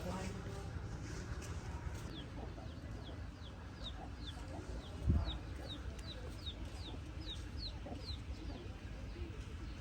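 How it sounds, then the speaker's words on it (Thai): Chickens cluck steadily at a farm setting while a run of small high chick-like cheeps repeats through the middle, all fairly faint and mixed with background noise and a brief thump. "ลูกไก่ลูกไก่"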